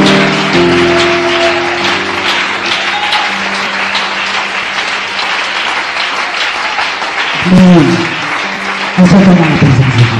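Applause and cheering from a church congregation praising God, a dense, steady wash of clapping lasting throughout, with sung or shouted voices and music tones rising over it near the end.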